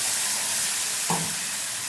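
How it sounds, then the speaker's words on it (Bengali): Mustard paste frying in a pan for a small-fish chorchori, giving a steady soft hiss with one brief clink of a utensil partway through. "এবার একটু ভালো করে আমি ভেজে নেব।"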